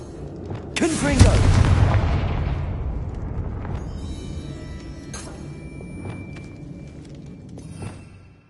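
A Confringo fire spell blast in Hogwarts Legacy, a loud booming burst that decays slowly over several seconds with small crackles and pops afterward, no voices.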